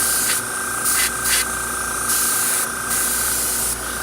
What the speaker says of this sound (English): So now we're gonna spray this from this side so that the ribs can get even coverage.